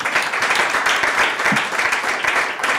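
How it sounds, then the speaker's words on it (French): An audience gives dense, sustained applause to four panel speakers at the close of a public health discussion, loud and even from start to finish. "Ce soir, on peut les applaudir."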